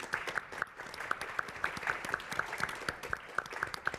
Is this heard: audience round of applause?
yes